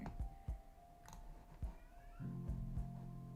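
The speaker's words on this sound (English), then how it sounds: "My cat is meowing in the background." A pet cat meows softly in the background of a quiet indoor room, one drawn-out meow among faint clicks and a low steady hum.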